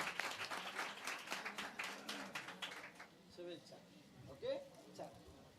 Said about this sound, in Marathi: जोरदार टाळ्या वाजव्या आपल्या छोट्या उस्तादाकरता.